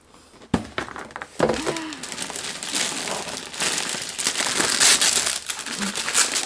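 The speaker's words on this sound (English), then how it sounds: "Tear the paper." Paper tearing and crinkling up close while a gift box is unboxed, with sharp ripping bursts and continuous rustling that grows denser over several seconds.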